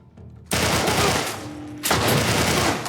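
Gunfire from a weapon in The Last of Us, played as loud, close bursts of rapid shots with a short dip in between, punchy and harsh with heavy recoil, with no talking.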